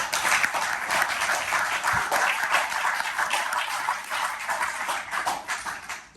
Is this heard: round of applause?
yes